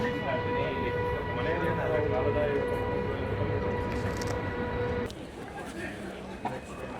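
Riding inside the Flåm Railway mountain train in Norway: a steady rumble with sustained tonal hums, the sound abruptly shifting quieter near the end, with faint talk underneath.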